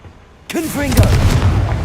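A Confringo blasting spell detonates in Hogwarts Legacy, a sudden loud boom followed by a rumbling tail, with a character's voice speaking over it.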